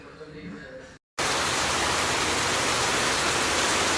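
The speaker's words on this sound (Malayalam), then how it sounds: "ഡിസംബർ ആയിട്ട് മഞ്ഞിന് പകരം മഴയാണ് പെയ്യുന്നത്." December rain pouring outside a home, a dense, even hiss that cuts in abruptly after a moment of silence, with a quieter, murkier background before it.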